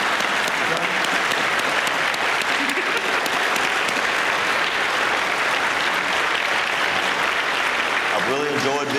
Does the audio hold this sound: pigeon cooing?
no